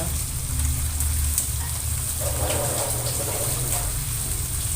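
A blended spice paste for tofu bacem sautés in a pan with a steady, close hiss and sizzle that stays even throughout, with no talking.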